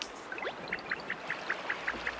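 River water flowing in Paper Mario: The Origami King, a soft trickling stream with a run of evenly spaced bright plinking drops, fairly close and alone.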